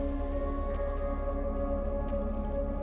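Steady rainfall from the video game Minecraft patters evenly and faintly beneath a constant low hum, with no voices.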